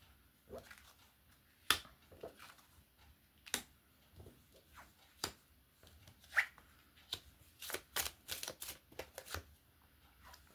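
Tarot cards being shuffled and drawn, with crisp riffles, slaps and flicks arriving in irregular bursts, sparse at first and then clustering quickly near the end, close and fairly quiet with no talk.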